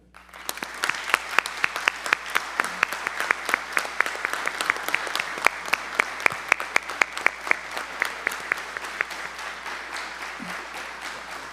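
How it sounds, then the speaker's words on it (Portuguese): An audience at a formal legislative honors ceremony gives sustained applause, a steady wash of clapping with sharp individual claps standing out throughout, tapering slightly near the end. "peço a todos uma calorosa salva de palmas ao Tenente Brigadeiro do Ar, Paulo Vitor da Silva"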